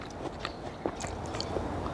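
Crunchy green guava with mango being chewed close to the mic, soft crisp bites and moist crunching over a steady background noise, no talk.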